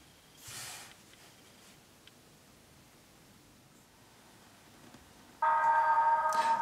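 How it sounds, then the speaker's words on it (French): Video sound played through the loudspeaker of a THL 4000 smartphone: a quiet room with a brief soft burst early on, then loud, bright tonal playback that starts abruptly near the end and carries on. "Puissant, le son du haut-parleur, qui est là, ici."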